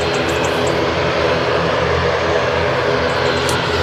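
A Ryanair airliner's engines roar at Manchester Airport as it prepares to take off, a loud, continuous broadband rumble and whine that stays steady and close for the whole stretch.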